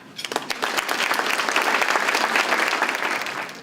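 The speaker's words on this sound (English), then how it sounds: "So please join me with a round of applause as we greet him with Pastor" A large audience bursts into dense, sustained applause to welcome Pastor Casey Branch at a conference opening session. The clapping swells quickly and holds steady before tapering near the end, with no voices over it.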